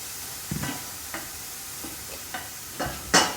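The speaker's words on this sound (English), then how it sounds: "So that'll sizzle away for a few minutes." Low sizzle of food with a little added water in a pan, broken by several soft clinks and scrapes of a utensil stirring, ending with a brighter crackle.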